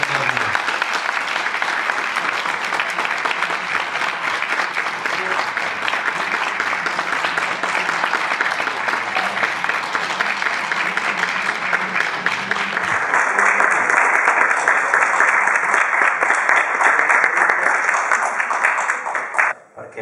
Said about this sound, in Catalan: i jo crec que es mereix un fort aplaudiment.